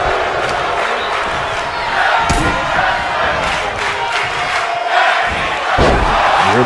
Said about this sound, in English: The crowd chanting tag team wrestling